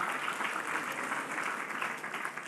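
An audience claps through a spiritual talk on the Bhagavad Gita, a dense, steady patter of many hands that holds at an even level throughout, with no voices over it.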